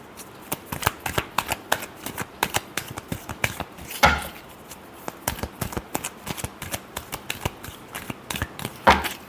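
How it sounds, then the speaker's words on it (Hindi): Tarot cards being shuffled by hand give off a rapid run of crisp, close papery snaps and riffles, steady throughout with a couple of louder flicks along the way. "Last shuffle."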